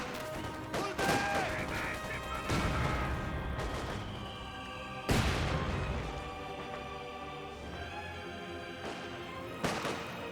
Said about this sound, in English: Good rifle grenade there.